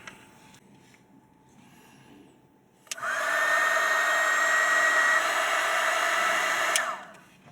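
A heat gun starts at about three seconds and blows a loud, steady whoosh with a high whine while shrinking heat-shrink tubing onto a battery cable for an electric conversion, then shuts off near the end.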